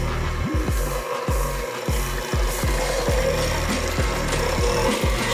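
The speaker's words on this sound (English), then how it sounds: "you're going to slowly beat the cream cheese and the sugar on low speed" Electric hand mixer beating cream cheese and sugar on low speed for a New York cheesecake, a steady motor whir with repeated knocking thumps as the beaters hit the bowl, close and fairly loud, with no talking.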